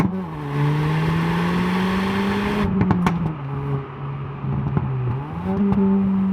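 A manual Ford Focus ST engine revs repeatedly while rolling, its note climbing and falling in loud, close blips over a steady road hum.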